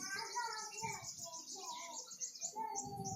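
Birds chirp and tweet close by in quick overlapping calls, with a voice and other chatter faintly mixed in underneath.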